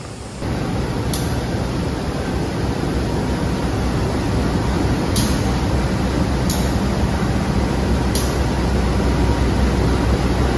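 The Argo Cirebon train to Gambir pulls away from platform 5, a steady low rumble of rolling wheels and engine that holds loud and even throughout, with a few brief high metallic squeaks.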